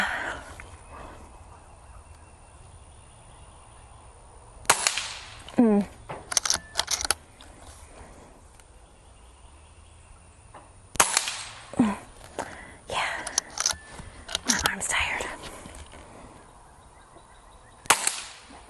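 Repeated shots from a JTS Airacuda Max .22 air rifle fired offhand, coming as sharp, close cracks in uneven clusters, with quiet gaps between groups.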